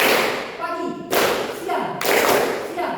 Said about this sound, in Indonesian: Ketika Bapak menyebut pagi, tepuk tangan sekali.